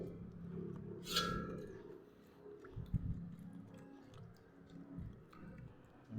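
Someone chews a mouthful of cooked pako fern at close range, with soft, moist crunching and squishing in an irregular rhythm. The sounds are quiet, and no one speaks.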